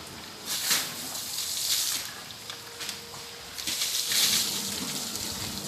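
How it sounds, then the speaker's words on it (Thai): Water scooped and splashed onto an animal's back during bathing: several separate splashy gushes at irregular intervals over a steady wet background, moderately loud and close. "คุณตาก็สาดน้ำเสร็จก็ต้องขึ้นไปบนหลังเขานะครับ"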